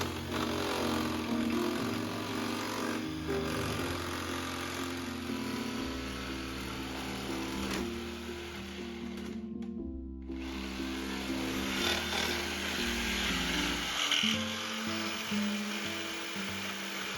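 A power saw fitted with a Bosch bimetallic blade cuts hard aluminum diamond plate for a countertop, producing a loud, sustained droning whine that shifts in pitch as it bites, with a short dip partway through.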